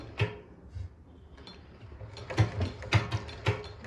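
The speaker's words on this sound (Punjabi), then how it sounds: "ਹੁਣ ਜਿਹੜਾ ਮਸ਼ੀਨ ਨੂੰ ਆਪਾਂ ਪੁੱਠਾ ਘੁਮਾਉਣਾ ਸ਼ੁਰੂ ਕਰ ਦੇਣਾ" A freshly oiled household sewing machine is turned backwards by hand, its gears and shuttle making irregular mechanical clicks and ratcheting ticks, close and fairly soft, that grow busier toward the end with no talking.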